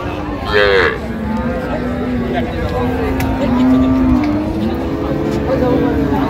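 A cow with her calf lows in several drawn-out moos at a busy rural cattle market in Dinajpur, with crowd chatter and people talking throughout.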